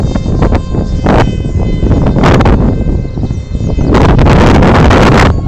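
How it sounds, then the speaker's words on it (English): Strong wind buffets the microphone at an RC Powers F-22 Mk2 model plane flight, with loud, continuous rumbling and gusty rustling, swelling in bursts throughout. "Very windy here."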